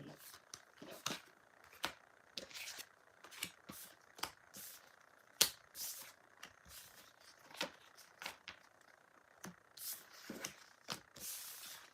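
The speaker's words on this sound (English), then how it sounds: "let me just put some cards away" Playing cards are handled and put away on a counter, giving a run of quiet, irregular clicks, snaps and shuffling flicks spread across the whole stretch, close and faint with no talking.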